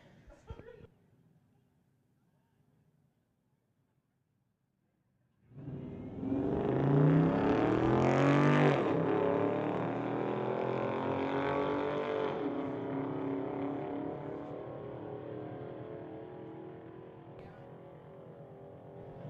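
A Chrysler launches hard at a street legal drag racing event after a few quiet seconds, its engine bursting in loud and climbing through gears, then holding a strong roar that slowly fades down the strip.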